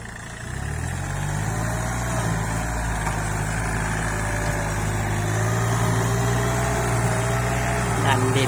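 A three-cylinder direct-injection tractor engine runs at a steady idle close by, with a constant low drone throughout and a voice speaking over it.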